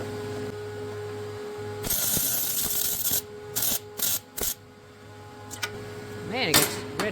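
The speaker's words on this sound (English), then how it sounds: "I'm going to go ahead and weld it." Welding a 10mm nut onto a broken head stud of an air-cooled 1980 Porsche 911 SC engine, with a steady crackling, sizzling arc that runs in bursts and short zaps, under background hum.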